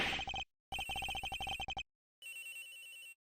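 A telephone rings in the Ace Attorney Investigations video game, sounding in repeated rapid electronic trill bursts separated by short silences, clear and fairly close.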